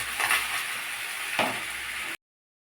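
Spatula gently turning cooked rice in a wok for Bengali-style fried rice, a soft continuous sizzle with two slow scraping strokes, close and moderately quiet before cutting off.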